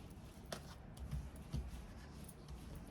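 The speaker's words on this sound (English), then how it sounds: "Last shuffle." A deck of tarot cards is shuffled quietly, with a few soft riffling flicks and taps spread over a few seconds against a faint background hiss.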